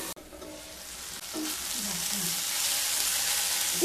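Bitter gourd pieces sizzle and crackle in hot oil in a pan, the frying hiss building steadily while a spatula scrapes and stirs them.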